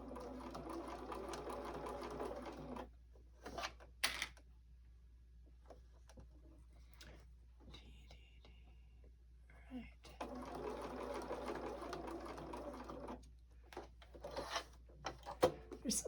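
A sewing machine stitches a quilted mug rug made from fabric scraps in two steady runs of close motor whirring, separated by a quieter pause filled with small handling clicks and taps.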